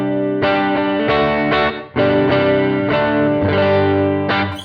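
Electric guitar played through a NUX Solid Studio running a Fender Bassman amp model, a series of loud strummed chords with a growly, bass-heavy distorted tone and chorus-like shimmer, ringing out alone with a brief gap between strums.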